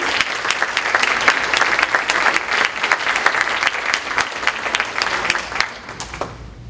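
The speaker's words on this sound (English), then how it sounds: "Let's do another round of applause for Maria" Audience applause fills a hall at an awards ceremony, a dense, steady wash of many hands clapping close and loud for several seconds before thinning out at the end.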